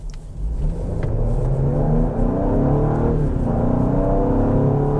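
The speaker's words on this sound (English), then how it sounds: "that actually sounds like a real engine" A 2022 Ford Explorer King Ranch engine revs up loudly and close by, its pitch climbing and holding in a sustained mechanical drone with no voices.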